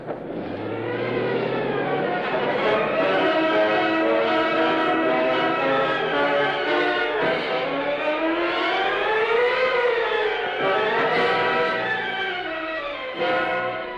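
Wailing police car sirens in an old radio drama, several rising and falling tones overlapping loudly and continuously, with no talk.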